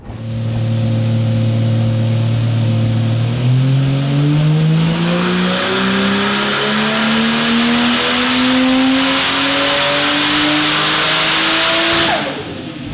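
A turbocharged car engine revs hard on a dyno run with the torque converter lockup engaged, climbing steadily in pitch for about ten seconds at full, loud volume before abruptly dropping off near the end.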